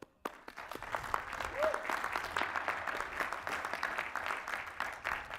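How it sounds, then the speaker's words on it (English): Applause at a graduate commencement ceremony, a distant, fairly quiet patter of many hands clapping that swells after a brief silence and carries on steadily, with a faint voice briefly audible beneath it. "So let's put a round of applause for all of us."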